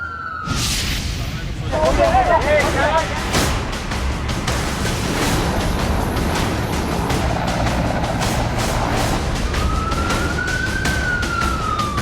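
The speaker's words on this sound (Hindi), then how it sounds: "एम्बुलेंस लगातार लगी हुई है जिससे लोगों को अस्पताल पहुंचाया जा सके।" An ambulance siren wails at an earthquake rescue site in Afghanistan, its rising and falling tone running under continuous crowd noise, vehicle rumble and voices, moderately loud throughout.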